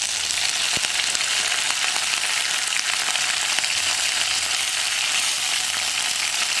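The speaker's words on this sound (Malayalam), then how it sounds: "നമുക്കിതിലേക്ക് ഒരു 3 വറ്റൽമുളക് ചേർത്ത് കൊടുക്കാം. അതുപോലെ തന്നെ കുറച്ച് കറിവേപ്പിലയും ചേർക്കാം." Three dried red chillies and curry leaves fry in hot oil with mustard seeds, a steady, close, bright sizzle with faint crackles throughout and no voices.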